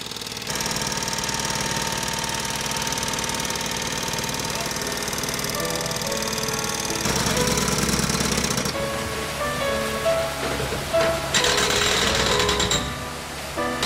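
Concrete mixer trucks working at a church foundation site, pouring concrete into a trench: a steady, loud mechanical engine drone with rumbling and knocking, growing busier and harsher midway, with no voices.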